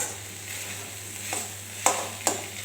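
Leafy greens cooked with mustard sautéing in a pan, a soft continuous sizzle broken by a few sharp stirring clinks and scrapes near the end.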